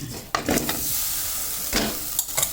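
Cassava pieces fry in a pan and are stirred, giving a soft steady sizzle broken by a few scraping stirs and light clinks of the utensil.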